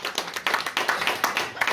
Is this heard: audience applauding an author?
yes